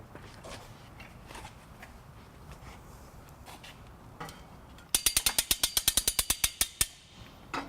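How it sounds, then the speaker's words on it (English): A U-Haul hitch jack raises a trailer hitch into place under a 2011 Scion xB, first with soft scattered handling noises, then a rapid run of about fifteen sharp, loud ratcheting clicks close by. "I'm going to be using a exclusive U-Haul hitch jack to help me get the hitch into place"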